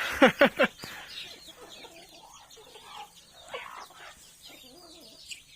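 Backyard chickens on a rural Thai smallholding, a few loud, close clucks in a quick burst at the start, then quieter, scattered clucking and soft farmyard sounds.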